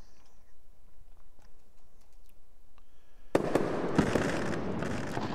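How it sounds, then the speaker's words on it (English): After a few seconds of faint ticking, a burst of crackling fireworks erupts suddenly and keeps popping and sizzling loudly to the end. "So, that's fireworks. Good sound."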